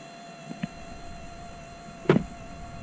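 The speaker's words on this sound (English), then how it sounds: "the actuator switch will raise and lower the motor, and up it goes" A kayak trolling motor's electric actuator raising the motor gives a short whirring burst near the end, after a couple of faint clicks over a steady background hum; no talking.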